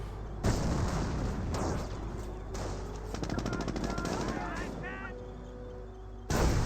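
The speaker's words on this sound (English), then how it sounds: "Nebel Warfare Barrage raining on in" Nebelwerfer rocket artillery barrage in Company of Heroes, a dense run of booming blasts and rapid crackling impacts with rising rocket whines, loud and continuous, with a commentator talking over it.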